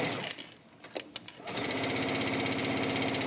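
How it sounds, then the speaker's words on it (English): A sewing machine stitches the side seam of a wrap dress. After a few light handling clicks it runs into a steady, fast mechanical whir and needle chatter, close and continuous to the end. "I'm stitching down the side seam."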